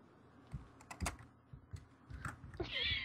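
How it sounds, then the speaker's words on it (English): Clicky keystrokes on a rainbow-backlit Genius computer keyboard, a few scattered taps and short bursts, fairly close and moderately loud amid low background noise. "I got this keyboard for Christmas"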